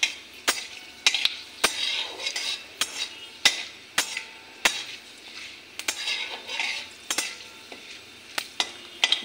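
Whole mustard and fenugreek seeds frying in oil with a bay leaf over a low gas flame: a light sizzle under frequent sharp clinks and scrapes of a spoon stirring against the pan, with no talking.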